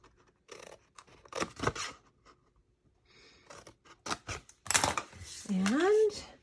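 Scissors snip paper for a cupcake treat box in a few quick, close cuts, with soft paper handling between and a brief voice or hum near the end.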